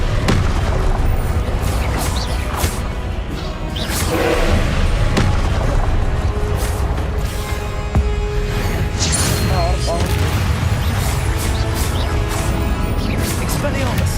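Confringo fire spells explode repeatedly during a Hogwarts Legacy battle, with loud booms and crashes in a dense, nonstop clamour and voices shouting over the fight.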